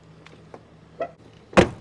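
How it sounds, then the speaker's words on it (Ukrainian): A few faint taps and clicks, then a single solid thunk of a car door shutting nearby, a door that does not close fully. "Двері закриваються, але не повністю."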